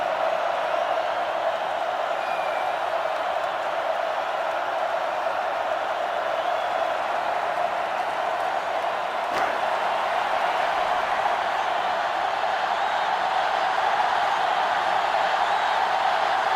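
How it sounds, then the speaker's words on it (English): Steady roar of a stadium crowd in NCAA Football 2005 during a Michigan versus Penn State college football game, a constant loud wash of cheering that holds evenly throughout without breaks. "The crowd is really letting them hear it."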